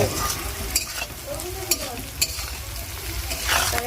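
Garlic fries loudly in a pan for a pangas fish curry, with a dense, continuous sizzle broken by several sharp clicks of a spatula stirring.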